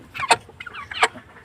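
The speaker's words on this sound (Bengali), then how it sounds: "আম্মুর কিছু মুরগি আছে।" A few backyard hens, one of them black, give two bright squawking calls about a second apart with softer chatter between them, close by and with no talk.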